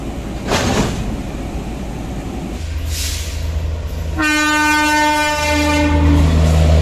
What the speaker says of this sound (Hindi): लालगढ़ डिब्रूगढ़ एक्सप्रेस।